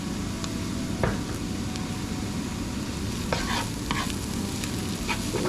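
Garlic sizzles in a pan with ground beef and mushrooms, a steady frying hiss with occasional stirring scrapes and clicks, close and continuous.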